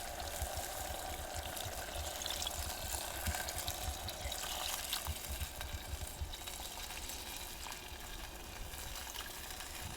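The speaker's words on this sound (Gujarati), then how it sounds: "હવે આપણે પાણી નાખી દઈએ આમાં જોતું પૂરતું." Water is poured into a clay pan where whole garlic is cooking, giving a faint, steady hiss and sizzle that lasts about ten seconds, with no talking.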